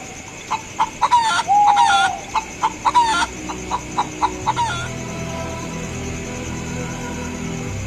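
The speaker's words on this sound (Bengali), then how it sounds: "এইটাই তাইলে সেই সোনার ডিম দেওয়া মুরগি" A cartoon hen clucks loudly in a quick burst of sharp, repeated clucks for several seconds, then falls quiet over soft background noise.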